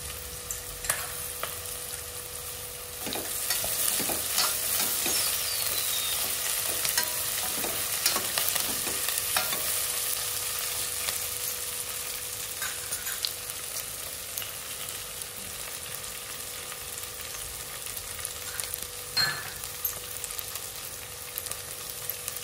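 Onions fry in a pan for kichidi, a steady close sizzling hiss that swells after a few seconds, with light stirring clicks and crackles and no talking.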